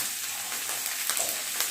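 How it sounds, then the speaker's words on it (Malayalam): Buffalo meat pickle mixture sizzles in a pan while a wooden spoon stirs through it. A continuous close frying hiss carries soft scraping and a few small clicks. "ഒരു തടിത്തവി എടുത്ത് ഞാൻ എല്ലാം കൂടെ ഇളക്കി യോജിപ്പിച്ച് കൊടുക്കുന്നുണ്ട്"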